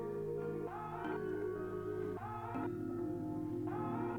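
A dark, gritty beat layers a bell sample melody with guitar and a vocal chop, playing quiet sustained tonal chords that shift in steps every second or so. No one speaks.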